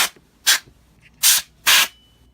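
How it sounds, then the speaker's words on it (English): Four sharp, loud blasts of canned compressed air blown onto an eMac computer, each about a quarter second, with brief pauses between them and no voices. "I'm just going to blow off this computer with some compressed air"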